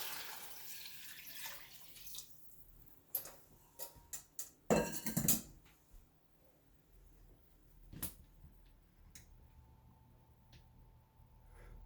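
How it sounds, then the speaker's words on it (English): Eight cups of water go into a pot in a home kitchen, with a faint pour and scattered clanks and splashes of water against metal, quiet and close. "I'm going to add my H2O, my water."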